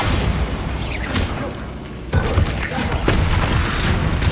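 Spell blasts in the video game Hogwarts Legacy, with Bombarda explosions landing as heavy booms and thuds amid a dense, continuous wash of combat noise, one sharp impact standing out about halfway through.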